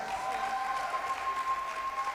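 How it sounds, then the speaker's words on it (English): Audience applause follows an inspirational talk, a steady wash of many hands clapping at moderate level for the whole stretch, with a faint sustained tone running through it. "Please give yourselves a round of applause."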